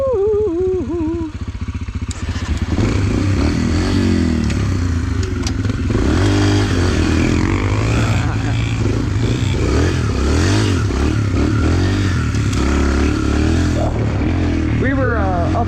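Dirt bikes ride in a gravel pit, their engines loud and close, revving and droning steadily with shifting pitch, plus scattered clatter and thumps from the rough ground.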